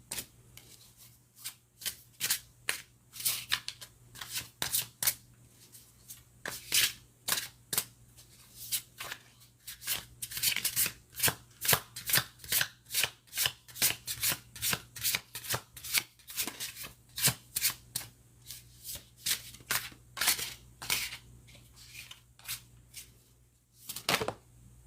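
Tarot cards being shuffled at close range, a steady run of crisp riffling slaps and flutters repeating for about twenty-five seconds with no voices over them.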